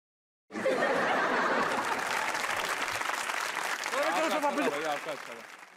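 A studio audience at a comedy talk show breaks into loud, sustained applause mixed with laughter after a sudden start, and voices carry over the clapping before it fades slightly at the end.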